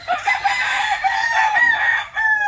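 A pure super brown red gamefowl rooster gives one long, close, loud crow that fills the whole moment and trails off at the end.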